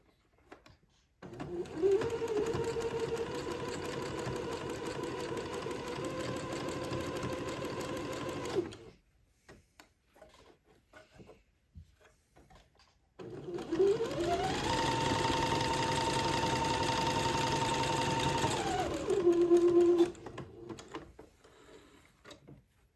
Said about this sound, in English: And then I will zigzag my entre-deux into place.